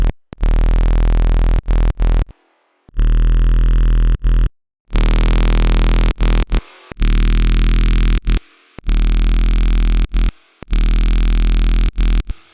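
A wonky, melodic bass synth patch made in Serum 2 plays dry, with no effects, as a series of loud, buzzy sustained notes. Pitch glides shift between notes, and short silences separate the phrases.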